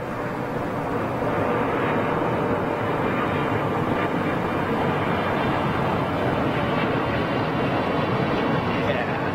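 A big jet airliner passes as a steady, loud, broad roar that holds for the whole stretch without fading, with faint voices underneath.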